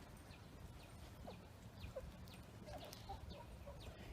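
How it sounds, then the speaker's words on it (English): Chickens, including an old rooster among a backyard flock, cluck softly and intermittently at a distance, with quiet scattered calls over steady outdoor background noise. "That's an old chicken"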